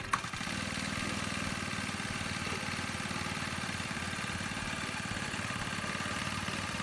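A methanol-fuelled scooter engine idles steadily with an even, rapid putter, close and continuous throughout.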